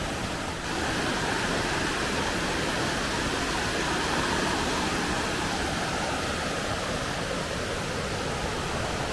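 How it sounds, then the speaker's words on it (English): Waterfall at Henry's Reserve pouring down, a constant loud broadband rush of falling water that fills the scene evenly from start to finish, with no voices. "There's something about watching the water cascade down."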